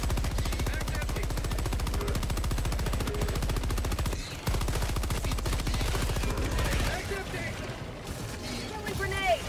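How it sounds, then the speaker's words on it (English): Rapid gunfire fills a Helldivers 2 battle, dense repeated shots rattling continuously at close range with a brief gap midway, while voices talk underneath. "Like, this shotgun is so much more punchy."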